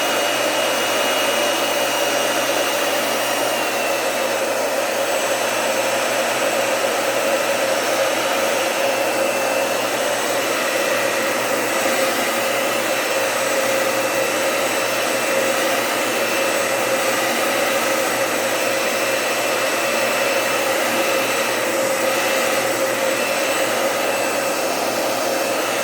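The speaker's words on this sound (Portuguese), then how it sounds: "agora mais outra vez um pouquinho de secador para secar essa parte" A hair dryer blows steadily at close range drying shellac on wood, a constant whirring hiss with a steady motor tone that never pauses.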